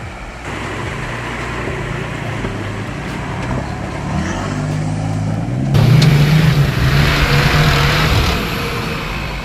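A four-wheel drive labours through a muddy creek crossing on the Old Telegraph Track, its engine droning steadily and then revving harder and louder as it strains, with a continuous close, rough roar throughout.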